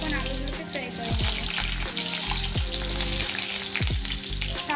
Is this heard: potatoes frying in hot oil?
yes